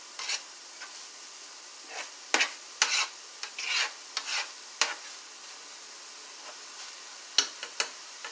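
Turkey lunch meat is cut up with a spoon, giving short scraping and clicking taps at an irregular pace, close and fairly faint against a quiet background.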